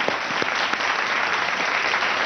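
An audience claps together in a steady, dense round of applause for a fundraising auction total, sustained and fairly loud with no voices over it.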